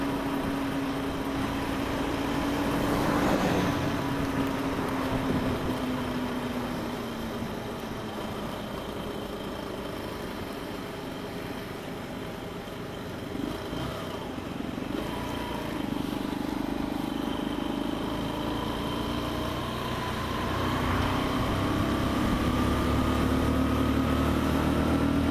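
A Suzuki DR 125 motorcycle engine labours in winter cold, struggling to rev with a flat spot on acceleration; its droning tone rises and sags unevenly, running close and continuous throughout.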